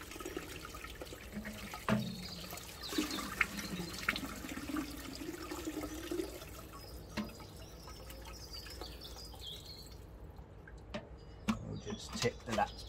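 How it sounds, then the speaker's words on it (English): Water is tipped out of a TITAN wet and dry vacuum tank, giving splashing and trickling pours with a few drips, while someone speaks over part of it and it thins out toward the end. "We'll just tip the last bit out."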